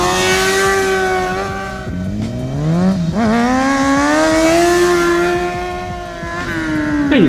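A 600 cc motorcycle engine revs hard and holds high revs while the rider lifts into a wheelie on a road, pitch rising and dipping with throttle changes, loud and close.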